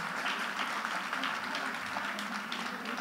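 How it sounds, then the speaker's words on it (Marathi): An audience at a school gathering claps steadily for a few seconds, a soft, even patter of many hands heard from some distance. "आपण एकदा या सगळ्यांसाठी जोरदार टाळ्या वाजवूया."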